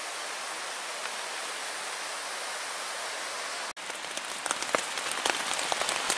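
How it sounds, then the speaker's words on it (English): Rain patters steadily on a tent during a wilderness camping trip on the Black Forest Trail near Slate Run, Pennsylvania, a dense continuous hiss with sharper drop taps growing more distinct after a brief break. "we got rained out"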